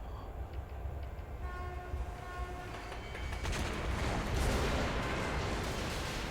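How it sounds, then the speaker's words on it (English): A train rumbles in with a long horn blast in the game Metro Last Light, the roar swelling louder and denser as it draws near. "And here comes the train."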